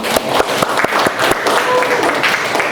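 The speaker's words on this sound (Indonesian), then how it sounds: "Tepuk tangan untuk kalian semua." A classroom of students claps for each other at the end of an Islamic religious education lesson. The applause is loud and lively, with quick uneven claps that carry on steadily throughout.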